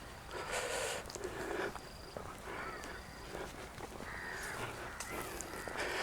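Crows caw repeatedly beside a lake in Johor, Malaysia, their harsh calls loud and close against steady outdoor background noise, with faint footsteps and rustling mixed in.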